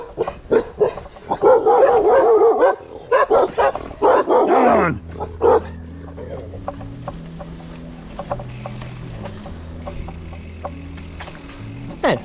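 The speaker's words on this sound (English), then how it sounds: "Yeah, no, the dogs are friendly." Dogs bark close by in a loud burst of overlapping barks and yips at a semi-border checkpoint along a road, then fall quiet as a faint mechanical ratcheting clicks on.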